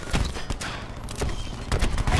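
Bursts of gunfire from the Black Ops 4 video game ring out in several loud volleys, with a sustained burst near the end over a steady game-ambience bed.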